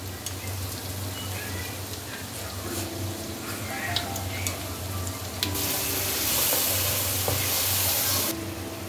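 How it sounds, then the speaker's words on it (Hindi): Ground cumin, spices and crushed fried onions sizzle in a pot for mutton korma, with steady close frying hiss, occasional stirring clinks and a louder hiss surge near the end. "1 टीस्पून ज़ीरा पिसा हुआ वो शामिल कर दें और इसके साथ भून लें"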